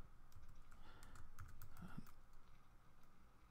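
Typing on a computer keyboard, a short quick burst of soft key clicks close by over a steady low room hum, then the tapping stops and only faint background noise remains.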